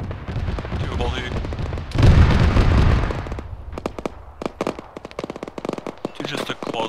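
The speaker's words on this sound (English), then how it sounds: "You just took close gunfire." Close machine-gun fire in a tactical military video game, a sustained roar of shots followed by a heavy burst and then rapid, sharp individual cracks, with team voice chat talking alongside.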